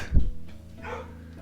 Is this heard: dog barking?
yes